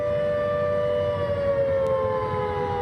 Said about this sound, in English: An air raid siren used to pull people from the water at Sydney's Maroubra Beach.